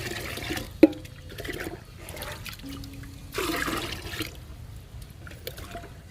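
Liquid plant fertilizer of groundnut cake, tea powder and egg powder, soaked four to five days, is stirred in a container, giving soft sloshing and swirling water sounds with a few sharper splashes and clinks.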